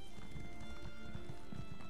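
Horse galloping in The Elder Scrolls Online, a steady rapid clip-clop of hooves running under continuous game ambience, close and fairly loud throughout.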